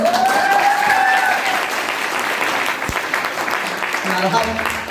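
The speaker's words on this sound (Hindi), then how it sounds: "ताली बजा के बता सकते हैं?" Audience clapping at a lively stage event, a steady dense wash of applause lasting throughout, with voices and shouts mixed in over it.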